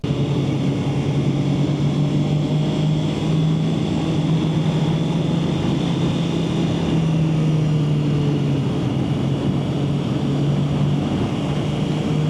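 A 2026 Honda CB650R motorcycle engine hums steadily at close range while riding, with a continuous drone and wind noise that shift slightly in pitch as the rider changes down through the gears.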